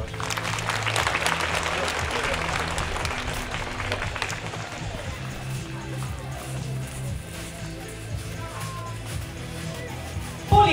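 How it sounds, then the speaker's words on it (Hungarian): Scattered applause from a small crowd at a school playground handover ceremony, a steady mid-loud patter of clapping lasting several seconds with some voices and movement mixed in. "Azt hiszem, ez megérdemel egy tapsot."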